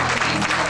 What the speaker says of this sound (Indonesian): Mari kita beri tepuk tangan bagi Dia.